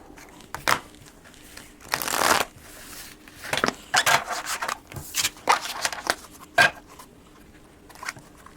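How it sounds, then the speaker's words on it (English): Bridge-size linen cardstock tarot cards being shuffled by hand, irregular bursts of riffling and rubbing with brief pauses between, close and moderately loud with no talking. "Super easy to shuffle."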